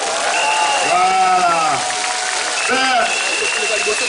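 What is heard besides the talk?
audience applauding at a comedy show in Kinshasa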